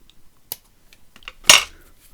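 Scissors snip through craft paper, a couple of light crisp cuts followed by one louder, sharper snip near the end, close and isolated.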